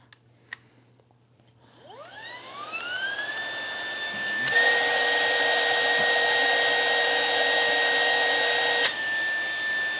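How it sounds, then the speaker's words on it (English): Lupe Pure cordless vacuum cleaner with its opening sealed with duct tape: a motor whines and spins up over about two seconds, then settles into a loud, steady high-pitched roar that grows denser midway, then eases slightly near the end. "So let's see how much working vacuum the LUPE gets."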